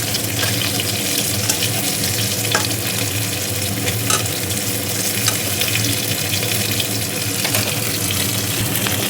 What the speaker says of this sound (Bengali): মাছটা ভাজা হয়ে গেছে, এখন আমি এটাকে নামিয়ে দিচ্ছি।